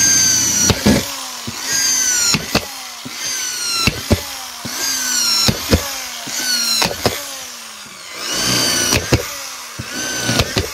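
A drill bores holes in a drainage pipe for land drainage, its motor whining and sliding in pitch as it cuts, with sharp knocks and clacks between bursts repeating about every second.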